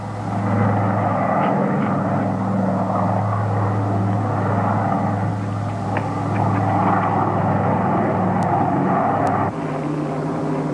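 Piston airplane descending along a glide path toward landing, a steady propeller-engine drone with a low constant hum holding loud and close throughout, briefly dipping near the end.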